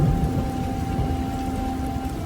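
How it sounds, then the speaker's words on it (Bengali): Light rain falls steadily outside on a night in a Bengal village, a soft, even patter that continues without a break, with a faint low hum running beneath it. "বাইরে ঝিরিঝিরি বৃষ্টি পড়ছে"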